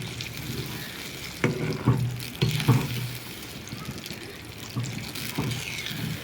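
Chilli powder mixture is stirred in a pan over a medium flame. A soft sizzle carries underneath as the spoon scrapes in irregular strokes, with a few louder clanks against the pan.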